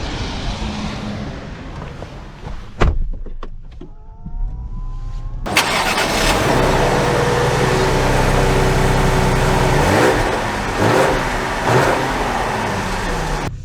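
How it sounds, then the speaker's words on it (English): A 2023 Lincoln Aviator engine cranks and catches with a sudden roar, then settles into a steady idle and rising drive hum as the crossover sets off, heard close from inside. "we are going to set off here in the Aviator"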